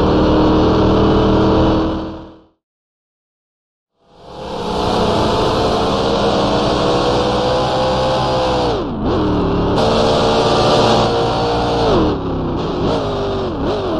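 Vintage racing cars in the Grand Prix Legends sim scream past at high revs, a loud continuous engine drone with gear shifts and pitch drops, broken by a brief two-second silence before the roar resumes.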